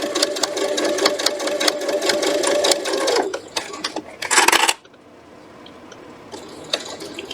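A sewing machine stitches along a quilt seam in a fast, continuous buzz, pausing briefly before a louder burst, then stopping and leaving faint room noise.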